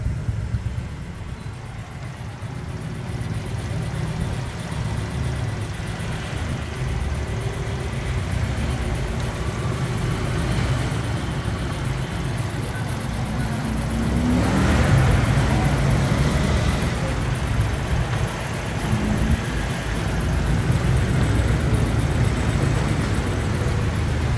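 A Honda Wave Thai 110 motorcycle engine idles with a steady low rumble, close by, with a slight rise in loudness midway and no talking.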